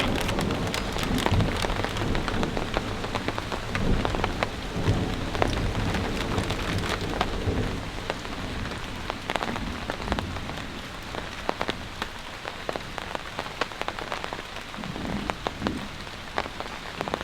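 Heavy rain pours steadily during a thunderstorm at a campsite, with dense crackling drops and distant rolling thunder underneath, no voices.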